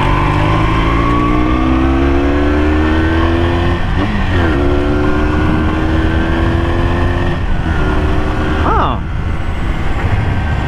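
A Daytona 250 cafe racer motorcycle accelerates on a test ride, its engine note climbing steadily through several gears with brief dips at each shift, loud and close throughout, with wind noise.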